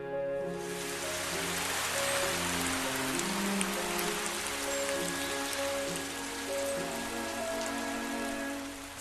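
Steady heavy rain pours onto surfaces as a constant hiss in an audio drama, with a low musical drone underneath and no voices.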